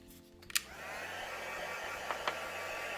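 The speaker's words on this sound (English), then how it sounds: "I'm going to go with the heat gun for just a few minutes so I can dry this off." A heat gun blows steadily as it dries a metallic-watercoloured stamped craft on a craft mat, a continuous airy roar that swells up quickly and holds, with a couple of small clicks along the way.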